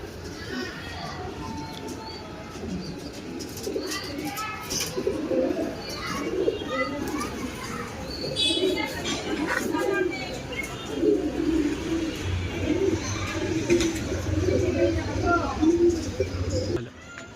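Rekhdar pigeons coo steadily in a loft among other birds, with faint chirps and children's voices in the background while people talk nearby.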